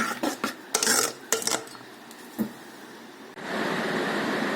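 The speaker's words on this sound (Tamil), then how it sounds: "இப்போ இந்த தாளிப்பை நல்லா கலந்துக்கலாம்" Raw mango pachadi being stirred in a pan after the tempering is added, with a quick run of clinking metal spoon knocks and scrapes, then a steady hiss in the background.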